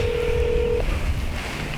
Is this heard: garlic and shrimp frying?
no